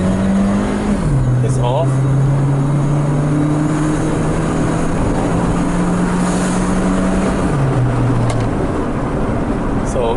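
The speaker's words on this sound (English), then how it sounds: "Now I'm accelerating" A Mitsubishi Lancer engine with a stuck brake switch and lost power drones steadily up close, its pitch dropping in a couple of steps rather than climbing, while someone says a few words.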